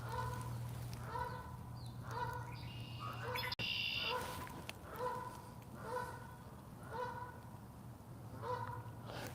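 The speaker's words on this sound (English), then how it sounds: "This is a Canada Goose over there" A Canada goose honks repeatedly in a park on a spring day, giving a steady series of nasal calls at a moderate distance over a low background hum, with a sharp click partway through.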